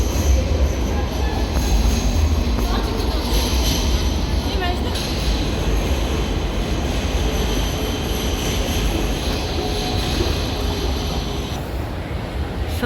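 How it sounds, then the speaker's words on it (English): Light rail metro trains running near Central Railway Station in Haymarket, Sydney, a steady loud rumble of wheels on track with squeals, continuous throughout amid street ambience. "Light rail metro trains."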